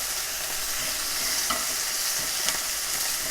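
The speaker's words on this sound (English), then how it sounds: "You should be able to move your chicken pieces around now. A bit more oil." Chicken pieces frying in oil in a pan as a sweet and sour chicken dish cooks, a dense steady sizzle with a few soft stirring clicks and scrapes, close up, no talking.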